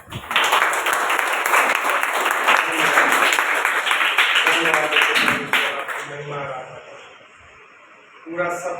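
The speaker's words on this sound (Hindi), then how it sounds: "बस जोरदार तालियां बजाते इस सभा के लिए।" A congregation at a Sunday church service applauds loudly and steadily, the clapping fading out after several seconds while a voice carries over it and continues talking afterward.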